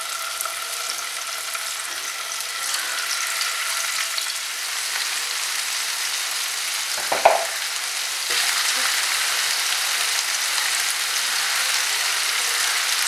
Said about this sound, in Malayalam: ഓക്കെ, ഇപ്പം എണ്ണ ചൂടായേക്കുവാണ്. നമുക്കിതിലേക്ക് ഫിഷ് ഫ്രൈക്ക് ഉണ്ടാക്കാനുള്ള സാധനങ്ങളിടാം.